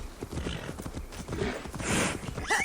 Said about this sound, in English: I can actually afford to sprint now a little bit longer with my horse